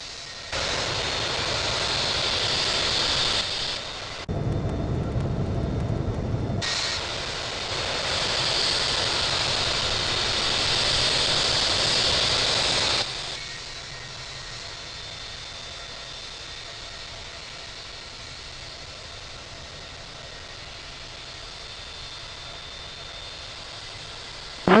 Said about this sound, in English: Air Force One is taking off runway 8 right